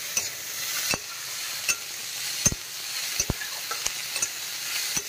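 Onions frying in a pan over high heat give a continuous bright sizzle, with sharp clicks and taps of a spoon against the pan at irregular intervals, close up and with no voices.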